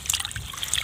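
Garden vegetables being rinsed in water, a brief steady trickle and splash of liquid with small drips, close and continuous.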